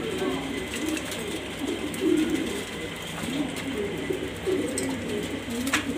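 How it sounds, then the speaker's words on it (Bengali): Pigeons for sale coo in soft, continuous low murmurs close by, with faint room noise and occasional talk over them. "দেখতেই পারতেছেন মাশাআল্লাহ কবুতরগুলো"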